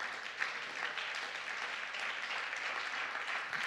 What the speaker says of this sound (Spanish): Dale ese aplauso fuerte al Señor.